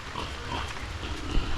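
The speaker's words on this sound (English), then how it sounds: "There's another pig there." A pig on a farm in Monteria, Colombia, grunts and oinks in short low snorts amid a noisy outdoor background.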